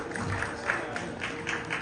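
Applause from an audience at a ceremony honouring Indian soldiers, a steady crowd of clapping held at a moderate level throughout, with no talk over it.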